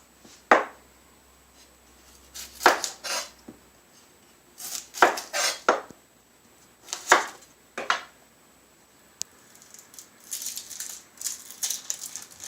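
A knife chops food on a cutting board in a cooking class, irregular knocks and taps, some in quick bursts with pauses between, close and fairly quiet, with no talk.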